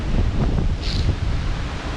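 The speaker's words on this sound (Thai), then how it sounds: "แต่ว่าวันนี้ก็คือ ลมแรง" Strong wind buffets the microphone on a mountain hiking trail at Pico das Pedras near Santana, Madeira, a steady loud roar with gusty low rumble throughout and no talk.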